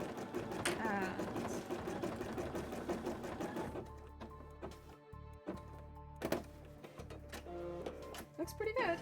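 An embroidery machine stitches a large piece with a busy mechanical clatter and rhythmic thunks at moderate distance. People talk over the machine throughout.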